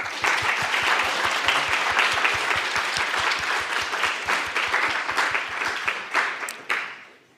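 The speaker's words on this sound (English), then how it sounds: "Let's give another round of applause." An audience at a computer graphics rendering competition award ceremony gives a sustained round of dense, even applause lasting about seven seconds before it thins out and fades at the end.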